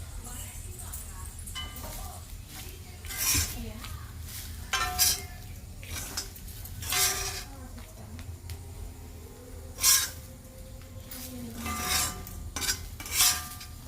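Bitter gourd powder mixture being stirred in a pan, with repeated scraping and rubbing strokes of a utensil against the metal, some sharper clinks, and a person talking over the stirring.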